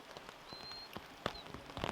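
Rain falling at a wild camp, a steady soft patter with a few sharper drops striking close by, quiet and continuous with no voices.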